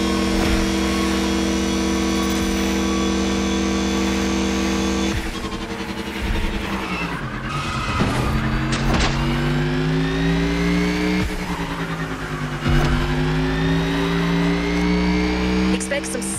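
Race car engines in The Crew Motorfest drone and rev continuously, the pitch rising and shifting as gears change, loud and close under a voice talking.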